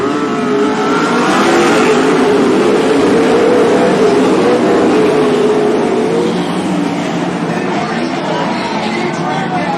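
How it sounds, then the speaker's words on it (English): Loud sprint car engines roar and rev together as the pack accelerates from the green flag at Cottage Grove Speedway, a dense continuous drone with an announcer calling over it. "Jason Sobel, right foot goes down, noise goes off, and we are green"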